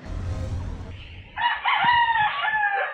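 A fighting rooster crows loudly and close by, one long drawn-out call following a low rumbling background.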